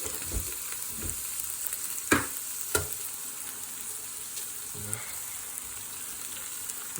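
Eggs frying in a pan alongside gnocchi and sausages give a steady, soft sizzle with a few sharp clinks of a utensil against the pan, and no talking.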